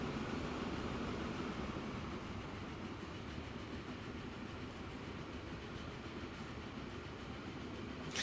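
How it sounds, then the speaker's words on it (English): An iron or coal freight train rolling past in the video game Transport Fever 2, a steady, dense rumble with rail clatter that stays loud and unbroken throughout. "This is an iron or coal train here."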